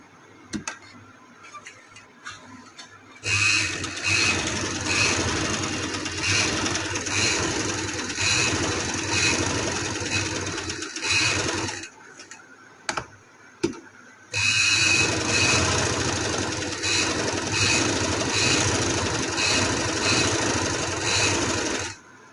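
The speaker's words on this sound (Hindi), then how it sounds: "मैं आपको सिलाई लगा कर दिखाती हूँ" A sewing machine runs stitches through fabric in two long steady whirring runs, the first lasting about nine seconds and the second, after a brief stop with a few clicks, about eight seconds. It sounds close and fairly loud, with no talking.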